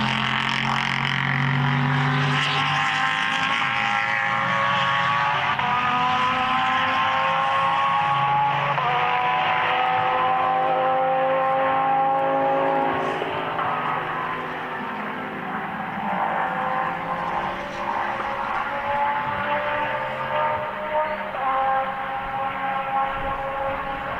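GT endurance race cars at SlovakiaRing, including Porsche number 846, fill the air with loud, rising and falling engine whines as they pass and shift, a continuous layered roar from start to finish.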